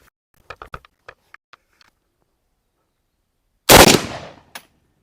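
A Saiga 308 rifle made by Pak Defence Arms fires on a range: one loud, close blast with a short decaying echo, preceded by quiet clicks and handling taps.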